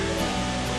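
Water pours steadily at Gugok Falls, a waterfall in a Korean valley, as an unbroken roar of rushing spray that holds even and close throughout.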